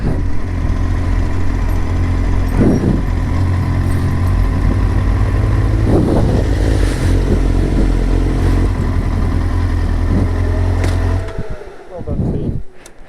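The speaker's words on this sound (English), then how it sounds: "Ah, motorcycles." Motorcycle engines rumble loudly nearby with revving surges, then the noise drops away as they pass; voices speak over it.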